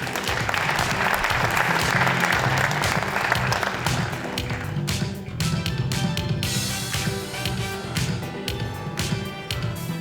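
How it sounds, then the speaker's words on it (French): A student science competition audience at Cégep de Granby versus Collège André-Grasset applauds loudly and continuously, a dense roar of clapping that thins slightly toward the end, with faint music beneath. "Vous pouvez les applaudir."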